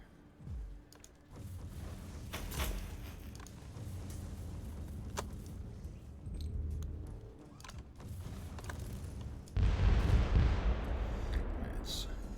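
Mortar artillery in the game Warhammer 40K: Inquisitor - Martyr, firing in muffled distant thumps under ongoing battle noise and mechanical clatter, ending in a louder rushing blast.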